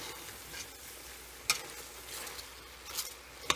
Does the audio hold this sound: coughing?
no